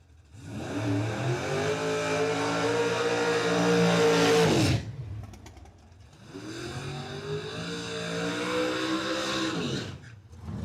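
Two drag race cars, a late-model Firebird and a third-generation Trans Am, roar loudly at the dragstrip, engines climbing in pitch through the gears before cutting off abruptly, then a second loud surge rises again and stops.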